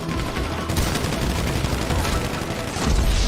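Rapid video-game shotgun blasts and gunfire, loud and dense throughout, with a heavy low boom near the end.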